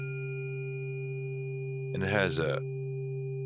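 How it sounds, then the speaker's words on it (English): A root Solfeggio tuning fork rings with a pure, steady sustained hum and faint overtones throughout, holding evenly from start to finish while a voice briefly speaks over it. "it's a very grounding sound when it's struck together with that ohm tuning fork"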